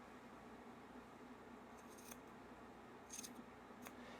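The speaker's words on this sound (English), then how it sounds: "I'll do my first couple of snips, making sure that nothing else is getting cut." Scissors snip through knitted fabric in a few quiet, close cuts, short sharp clicks spaced apart over a low steady background hum.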